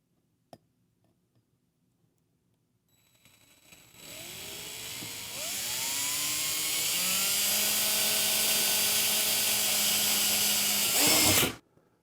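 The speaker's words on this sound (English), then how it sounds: "once we drill this hole, the screw will go into the dowel" A power drill spins up after a few quiet clicks, drilling a pilot hole into a dowel inside a pipe, whining steadily and rising in pitch for several seconds before cutting off abruptly.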